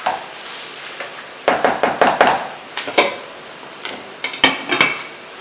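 Ground meat and sweet Italian sausage are broken up with a utensil in a pan, giving irregular scraping and clacking bursts with a faint sizzle underneath.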